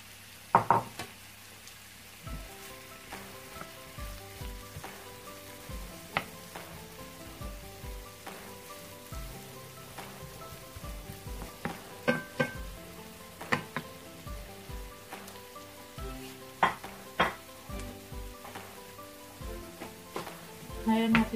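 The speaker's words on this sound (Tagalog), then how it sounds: "Ilalagay ko naman guys yung talong. Para maluto na siya." Eggplant frying in a pan with onion, garlic and ginger gives a steady, moderate sizzle with scattered sharp pops and spatter clicks, close by and continuing throughout without talk.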